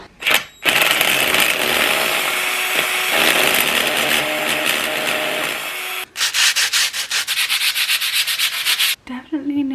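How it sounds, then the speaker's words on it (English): Harsh, continuous rasp of power sanding across plaster in a living room, cutting off briefly, then returning as rapid rhythmic scraping strokes. "This morning I've been sanding the plaster"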